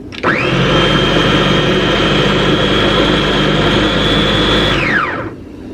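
A loud, steady motor whine comes from a SakerPlus multifunctional large-capacity grinder pureeing tomatoes. It runs for about five seconds after a sudden start, then spins down, with no talk.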